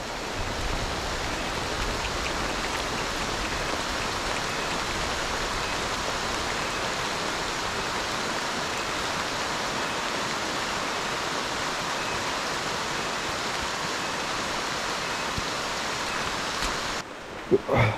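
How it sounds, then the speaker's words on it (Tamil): Leke Leke waterfall in Bali roars as a steady, dense rush of falling water, close and continuous throughout, ending with a brief rustle near the end. "We are already reaching the falls."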